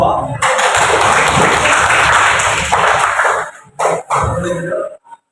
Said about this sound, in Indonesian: Bisa beri tepuk tangan kepada perwakilan kelompok.